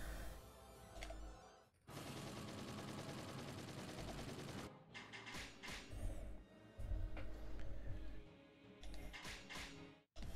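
An arbalest in Warriors Orochi 3 Ultimate fires on the Hydra in rapid, sustained bursts, loud mechanical shots layered over game effects and music, with brief pauses between volleys.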